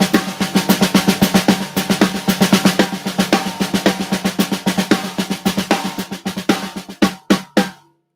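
A drum kit plays a steady, rapid paradiddle-based pattern of close, punchy strokes for several seconds, slowing into a few spaced final hits and then ringing out to silence, with no talking.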